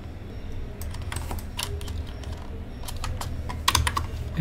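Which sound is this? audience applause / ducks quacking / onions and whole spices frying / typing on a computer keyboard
typing on a computer keyboard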